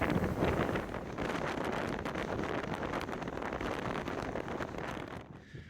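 Strong wind buffets the microphone on a dusty, overcast hike toward White Pocket on the Paria Plateau, a steady loud roaring rumble that holds for several seconds before easing off at the very end.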